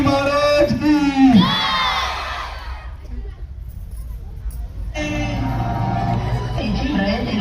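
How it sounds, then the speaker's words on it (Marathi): A large crowd at a Chhatrapati Shivaji Maharaj event roars and cheers loudly at first, with a voice rising over it, then the noise drops away before a broad wash of crowd sound returns and holds steady. "जोरदार टाळ्या वाजवा."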